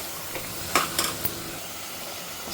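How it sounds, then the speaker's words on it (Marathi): Mixed vegetables for pav bhaji are stirred in a hot spiced tempering, with a soft continuous sizzle and a few sharp scraping clinks of a spoon against the pan near the middle. "एक एक मिनिटभर परतून घेते चांगल्या भाज्या"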